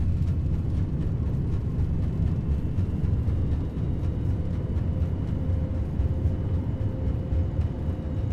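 Boeing 787-9 thrust reversers roaring after landing in X-Plane 11, a steady loud low engine rumble with broadband whoosh, continuous throughout with no voices.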